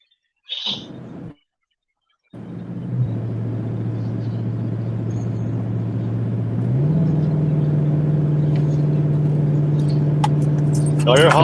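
A vehicle engine on the highway holds a steady low drone that rises in pitch partway through as it accelerates, loud and continuous after a brief pause at the start.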